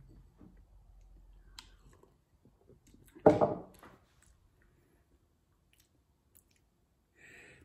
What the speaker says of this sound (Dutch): Nou, laten we maar een slokje nemen.